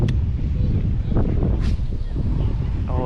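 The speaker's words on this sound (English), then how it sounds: "the wind is blowing this way too." Wind blowing across a city park pond, a steady low rumbling roar buffeting the microphone close up for the whole stretch, with a few faint rustles riding on top.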